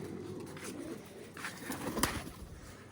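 Soft pigeon cooing with low throaty coos close by, alongside some faint rustling and a brief flutter.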